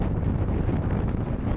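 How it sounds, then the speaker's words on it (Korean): Strong headwind during a long-distance walk roars steadily into the microphone as a dense, constant low rumble with no let-up, close and loud, with no talking. "계속 맞바람이에요."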